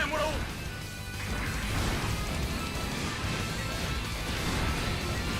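Rapid gunfire and crashing impacts from the mecha action game Gundam Breaker 3, loud and dense throughout, with no pauses and no voices.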